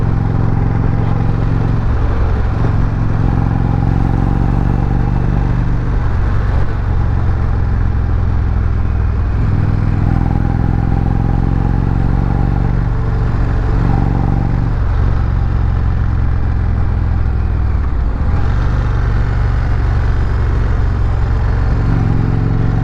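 An Indian Roadmaster motorcycle with a slipping clutch rolls at slow speed around a parking lot. Its low engine rumble runs steadily throughout, close and loud, with a few brief dips and swells.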